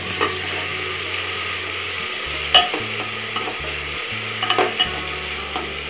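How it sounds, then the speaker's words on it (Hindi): Ginger garlic paste fries and is stirred in a pan, with a steady sizzle running throughout and occasional scraping and knocking of the spoon against the pan, while quiet music plays underneath. "अब इसे करेंगे मिक्स, इसे थोड़ा सा भून लेंगे।"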